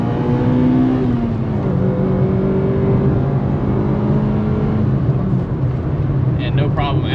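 A 2000 Honda Civic Si, completely unmodified, revs hard in second gear as VTEC engages, its engine drone steady and loud from inside the cabin, with rising engine tones throughout and no talk.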